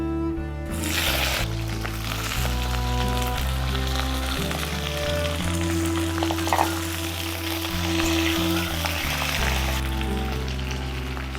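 Flat beans go into a pan of hot oil with black cumin and fried chopped garlic, giving a continuous hissing sizzle that runs under louder steady background music.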